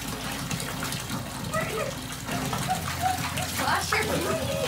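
Water pours steadily from a tap or shower onto a dog during a bath, a continuous close gushing and splashing, with someone talking to the dog over it.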